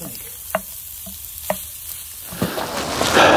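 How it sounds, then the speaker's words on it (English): Sausage browns in a Dutch oven over charcoal outdoors, a few scattered clicks and taps giving way to a rising, brighter sizzle toward the end, with no talking. "we're gonna drop the sausage in and get that browning"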